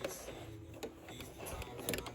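Domestic sewing machine running in short bursts as it stitches down fabric for a homemade label, a mechanical whirring with brief pauses, close and fairly quiet, no talking.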